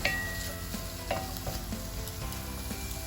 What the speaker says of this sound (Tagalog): Ito na rin po same pan, patututin yung onion.